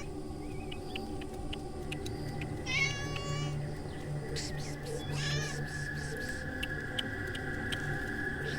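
A tabby cat gives a few short meows against a steady low hum and background murmur, the calls fairly close but not loud.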